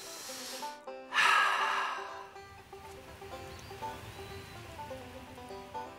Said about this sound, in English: That's the sound of our planet breathing.